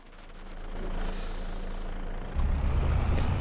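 A truck in Farming Simulator 25 idles with a low engine rumble, then lets out a sharp hissing release of its air brake, followed by a louder deep engine drone.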